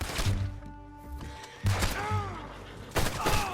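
Gunfire in the video game Red Dead Redemption 2: a couple of sharp, loud shots ring out, separated by a second or so, over tonal game music and ambient sound.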